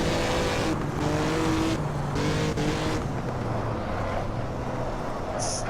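Vintage 1950s Formula One race cars in Assetto Corsa, racing at the Dutch Grand Prix, their engines droning loud and steady with gear changes shifting the pitch as they run close together.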